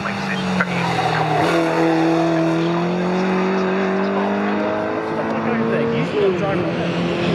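Classic race cars, including a Mark 1 Mini and a Triumph TR4, lap the Snetterton circuit with sustained engine whine that shifts in pitch as they pass, while a commentator talks over the racing.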